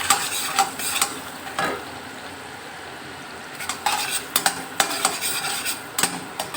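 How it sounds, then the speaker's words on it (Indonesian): Garlic sautéing in oil in a pan, a soft steady sizzle punctuated by repeated scraping and tapping of a spoon stirring against the pan, close and fairly quiet. "Nah, kita tumis bawang putih dulu."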